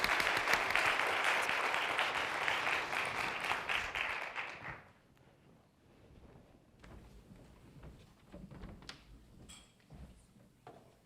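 A conference audience at a patient experience healthcare metrics session claps warmly in sustained applause for a presenter, dense and loud for several seconds before fading to scattered room noise and shuffling.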